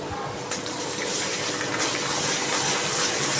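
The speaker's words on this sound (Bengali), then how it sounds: "একটু জল দিয়ে দিচ্ছি।" Water poured into a pan of fish roe cooking with raw mango, ginger and coriander-cumin paste, a steady, close rushing gush that fills the whole moment without a break.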